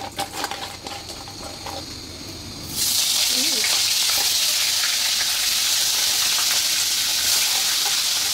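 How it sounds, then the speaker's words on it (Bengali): Crab sizzling in a hot pan with turmeric, a loud, steady frying hiss that jumps up sharply partway through when the crab goes in, with a voice talking faintly early on. "এই যে কাঁকড়া দিয়ে দিলাম"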